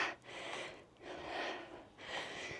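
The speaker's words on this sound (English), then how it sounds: "You'll hear my breathing increase, as will yours be." Heavy breathing during a workout comes in three slow, rhythmic breaths with a breathy rush on each, close to the mic but faint overall.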